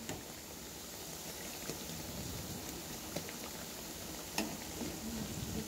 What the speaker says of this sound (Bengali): এইভাবে অনেক সবগুলো আমি ভেজে নেব।